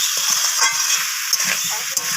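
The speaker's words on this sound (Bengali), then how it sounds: "আবারও নাড়াচাড়া করে কষিয়ে নিচ্ছি সব কিছু।" Ginger paste and spices stirred and frying in a pan, a dense continuous sizzle with soft scraping strokes from the spoon, close and fairly loud, no voices.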